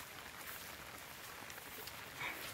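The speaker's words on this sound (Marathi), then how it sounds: "बघू शकता पाऊस चालू" Steady rain falls in a forest during a monsoon morning in rural Konkan, a soft continuous hiss of drops on leaves at low level with no other sounds standing out.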